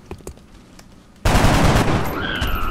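A burst of gunfire erupts in the turn-based strategy game X-Com Enemy Unknown, a sudden loud rattling volley after a quiet lead-in, followed by a rising whine of game effects.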